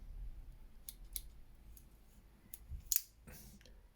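Several small, crisp snips from the scissors on an everyday-carry multitool at uneven intervals, close by and fairly quiet, with a sharper cut near the end.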